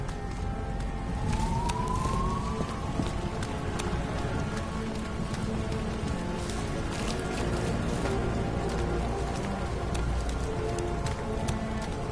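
A police car siren wails in the game Nobody Wants To Die, with a rising tone early on and then a steady drone, under constant rain patter and scattered clicks.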